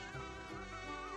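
A bee buzzes in one short, continuous drone that sounds close and steady, its pitch wavering slightly, with nothing else heard.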